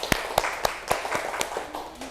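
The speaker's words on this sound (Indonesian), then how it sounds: "Sekarang tepuk tangan untuk kita semua." A first-grade class claps their hands in a classroom, about six sharp, separate claps spaced unevenly over two seconds with faint room noise between them.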